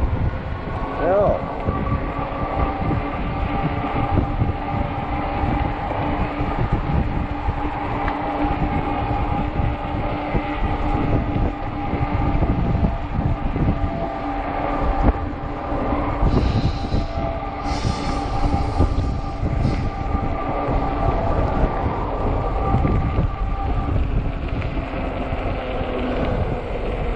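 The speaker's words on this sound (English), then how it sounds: "Fight the wind. That's no fun." Wind roars steadily into the microphone while someone rides an Ecotric 20-inch, 48-volt fat-tire e-bike. The loud, continuous buffeting rumble lasts throughout, with a faint tonal hum underneath.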